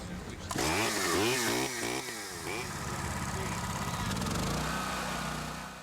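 A gas chainsaw runs in the aftermath of Hurricane Andrew, its engine revving up and down in rising and falling pitch before settling into a steady drone, with a voice talking over it.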